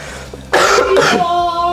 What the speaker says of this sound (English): It's coughing kind of like that.